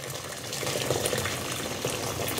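Freshly boiled hot water pouring into a container, a dense steady splashing gush, loud and close, continuous for about two and a half seconds with no voices.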